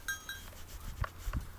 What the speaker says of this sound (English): the goats are happy with their new home